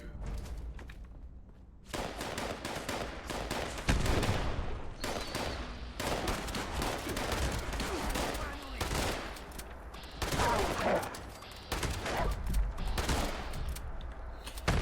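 Rifle fire in Fallout 76: repeated sharp shots and rapid bursts over about fifteen seconds, loud and close, with a player's voice faintly under the fire at times.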